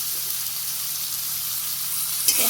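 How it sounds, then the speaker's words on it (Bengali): Steady sizzling of tomatoes with salt and turmeric frying in a pan, a continuous hiss with a brief stir near the end. "হালকা একটু ভাজা করে নিই"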